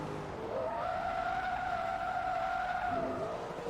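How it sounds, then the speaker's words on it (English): A car in Forza Motorsport 2 slides sideways on the handbrake across the finish line of a big block race, producing a long steady tire squeal of about two and a half seconds over engine drone, with no talk. "I'll do the usual and handbrake it across the line."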